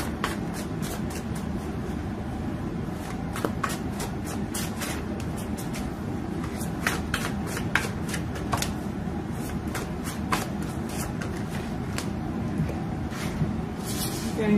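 Tarot cards shuffled and drawn, with rapid soft flicks and taps repeating over a steady, fairly loud background hum for the whole stretch.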